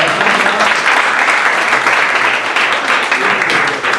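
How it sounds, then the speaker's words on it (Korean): An audience at a startup weekend final pitch event applauds a presenting team, loud, dense clapping sustained evenly throughout. "박수 부탁드립니다."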